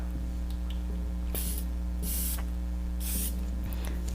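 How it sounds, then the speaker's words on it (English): Three loud, short hissing bursts of a pressurized perfume atomizer spraying a fragrance, spaced about a second apart over a steady low hum, with no talking. "Let's check this sprayer out."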